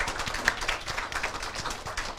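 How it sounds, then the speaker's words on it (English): An audience at a women entrepreneurs' summit session applauds student volunteers, a steady, moderately distant patter of many hands clapping that continues evenly throughout. "Round of applause for the mentees"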